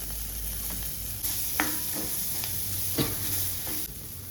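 Chopped green chilies and onion frying with cumin in a pan: a steady hiss of sizzling oil, broken by several sharp clinks and scrapes of a spoon stirring.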